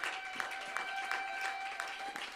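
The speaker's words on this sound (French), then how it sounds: "Donnons une acclamation au Seigneur." A church congregation at a French-language sermon claps together in a dense, steady round of applause, with a faint sustained tone held underneath.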